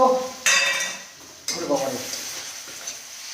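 Tomatoes drop into hot spices frying in a wok for chicken kosha, setting off a sudden burst of sizzling with the scrape of a stirring utensil. A second sizzling surge follows as the cooking settles into a steady crackle.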